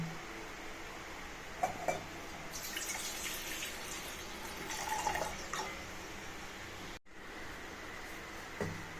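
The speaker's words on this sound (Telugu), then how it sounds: "ఇప్పుడు మనం గిన్నె తీసుకొని వాటర్ వేసుకుందాం" Water runs and splashes steadily into a bowl, with a few brief drips and clinks, at moderate distance and no voices.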